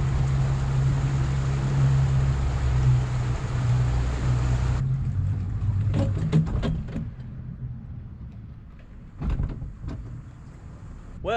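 A 24ft bay boat runs across open water with a loud, steady engine and hull-and-wind roar for several seconds before it drops away sharply, leaving quieter scattered knocks, splashes and wind buffets.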